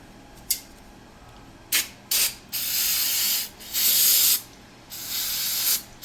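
Aerosol brake cleaner sprays in a garage, a few short hissing bursts followed by longer sustained blasts, loud and close with pauses between.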